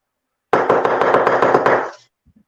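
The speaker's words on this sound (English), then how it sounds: "knocking, but you can't come in" A rapid run of about ten loud, close knocks on a hard surface, evenly spaced over a second and a half, then silence.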